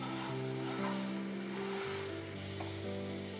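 Butter melts in an already hot pan, giving a quiet, steady sizzle with a faint hum underneath, with no talking over it.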